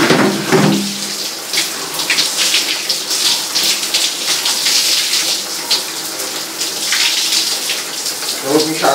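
Tap water runs steadily as a jiu-jitsu kimono is rinsed in a sink, a continuous close splashing hiss that stays loud throughout.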